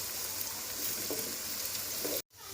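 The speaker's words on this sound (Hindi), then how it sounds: "मज़ीद हम भिंडी को 5 मिनट के लिए फ्राई कर लेंगे।" Okra frying with ginger garlic paste in a pan gives a loud, steady, close hiss and crackle of hot oil that cuts off abruptly near the end, with no speech.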